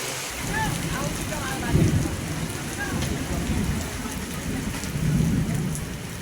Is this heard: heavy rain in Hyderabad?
yes